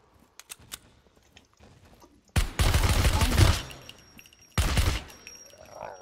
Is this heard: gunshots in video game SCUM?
yes